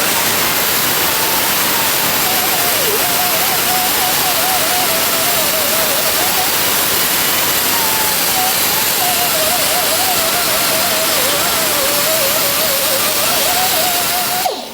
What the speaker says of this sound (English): and then I'm going to clean it with a whiz wheel.